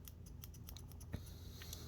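Scissors on a Gerber Diesel multi-pliers snip with small, crisp clicks and one sharper cut, close and quiet.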